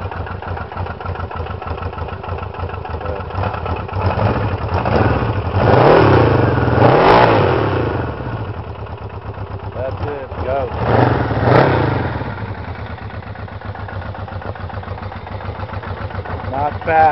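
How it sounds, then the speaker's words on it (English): A Honda motorcycle engine idles steadily, then revs up twice in rising and falling swells, close and loud, with voices speaking over it. "Rev it up a little."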